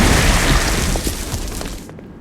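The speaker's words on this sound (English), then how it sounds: "Stone Blast is especially useful on flying demons like this" A Stone Blast attack hits flying demons in the video game Saints Row: Gat out of Hell, giving a loud, dense burst of booming impact and crumbling noise that rumbles for about two seconds before cutting off abruptly.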